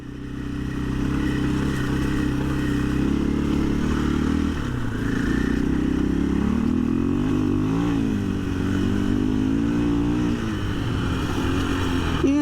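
A 2024 KTM 500 EXC-F enduro motorcycle engine runs steadily for about twelve seconds, its pitch rising and falling through revs with some mechanical clatter, close and continuous, no voices.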